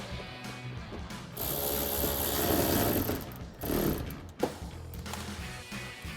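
Power driver tightening a RedRock pocket-style fender flare fastener on a 2009-2018 RAM 1500, a loud, steady mechanical whirring and rattling that runs for several seconds, then eases with a few brief sharp clicks toward the end.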